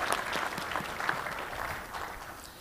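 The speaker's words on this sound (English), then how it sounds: "let's give a round of applause to our friends at Sonatype" Audience applause at a tech conference opening session, a brisk round of clapping from a seated crowd that holds steady and then begins to fade.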